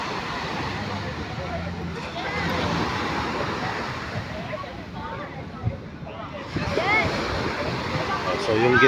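Fairly large sea waves wash onto the shallow shore at El Nido beach, Palawan, a continuous surging roar rising and falling, heard under a voice talking nearby.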